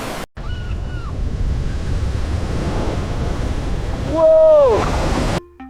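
Ocean waves and surf in an AI-generated surfing scene with several surfers riding close together, a steady loud wash of breaking water and wind rumble throughout, with a brief whistling tone swelling near the end.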